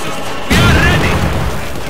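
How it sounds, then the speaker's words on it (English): A grenade explodes in the World War II strategy game Company of Heroes 2, a single loud, sudden boom that rumbles and fades over the next second. "Watch out! Grenade!"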